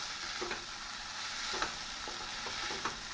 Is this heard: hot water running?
no